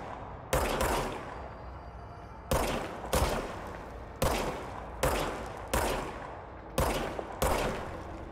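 Gunfire from a handgun in the video game Control, with seven or eight sharp single shots spaced about a second apart. Each shot rings loud with a short decaying tail, and no one speaks.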